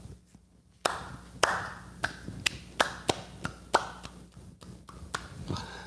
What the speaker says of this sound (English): I think it's time for a slow clap.